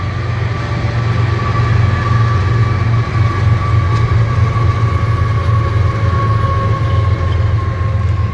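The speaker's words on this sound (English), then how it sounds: "Train's coming to an end." A train rumbles steadily past close by, a loud continuous roar with a low droning hum and faint rail clatter.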